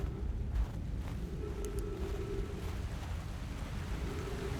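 Waterfall in the Outer Wilds game, a continuous dense rushing roar of falling water, steady throughout with no talk.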